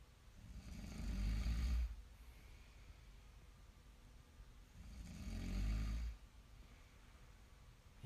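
A sleeping person snores loudly, with two long, rumbling inhaled snores several seconds apart and a quiet, hissy room between them.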